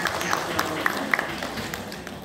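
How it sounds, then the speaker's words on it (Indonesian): Audience applause at a women's organization plenary meeting in Lamongan, a moderate patter of clapping in a hall with a few sharper individual claps standing out, fading gradually. "Tepuk tangan untuk Bu Hajah."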